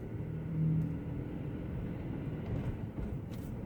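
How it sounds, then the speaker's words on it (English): Road traffic slowed by construction, a low steady rumble of passing and idling vehicles with soft swells, fairly faint and without talk. "there's traffic up here because there's construction"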